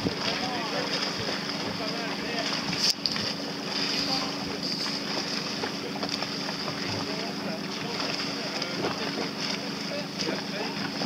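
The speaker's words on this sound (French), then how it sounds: "il y a du vent." Steady wind buffets the microphone in a constant rushing noise during a boat race, with faint water and boat sounds and a person speaking now and then.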